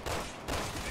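Quick gunfire from a Resident Evil 6 video game, two close, sharp, noisy cracks in rapid succession with no voices.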